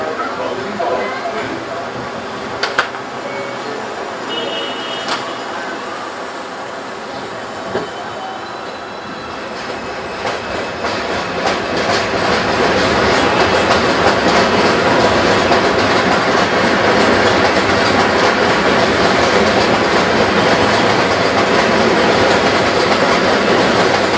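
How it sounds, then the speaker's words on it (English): A New York subway Route 4 train runs along the track with a steady rumble and clatter that grows louder and denser partway through, with wheels squealing, heard from inside a car as an automated announcement plays. "Route 4 train. The next stop is 149th Street, Grand Concourse."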